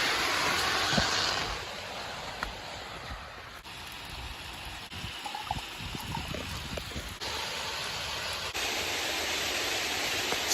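Water sprayed onto a cheap baker-style bushcraft tent in a leak test, a constant hissing downpour drumming on the fabric, shifting in strength as the spray moves, with a few sharper drips and knocks.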